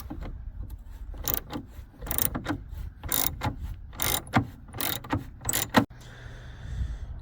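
Torx T27 driver loosening headlight screws on a Ford Expedition: close, uneven clicks and scraping turns with sharp ratcheting bursts, intermittent and clear against a quiet background.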